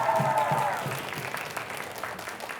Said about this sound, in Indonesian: Saya mau dengar tepuk tangan yang lebih semangat lagi dong teman-teman semua yang ada di studio